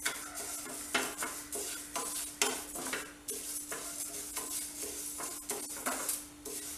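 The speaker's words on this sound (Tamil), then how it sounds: "பாசிப்பருப்பை வெறும் கடாயில் ப்ரௌன் கலராக வர்ற வரைக்கும் ரோஸ்ட் பண்ணிக்குவோம்." Moong dal dry roasting in an empty kadai, stirred continuously with a spoon that scrapes and clinks against the pan over a soft dry sizzle, close and steady with no talking.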